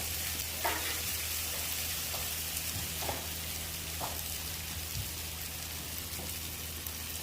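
A burger patty sizzles in a dollop of butter for a Wisconsin-style butter burger, a loud, steady crackling fry with scattered pops, close up and without voices.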